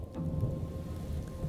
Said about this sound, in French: que m'importe à moi ce tonnerre qui gronde, son vent âpre et glacé, cette eau qui nous inonde